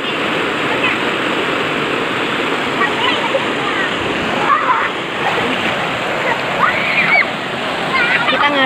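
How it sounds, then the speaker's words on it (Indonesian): Children bathing and splashing in a village river, heard as a loud, steady rush of flowing water with scattered splashes and faint voices mixed into the continuous wash. "Anak-anak pada seneng kalau mandi, ini udah kebiasaan anak-anak di sini"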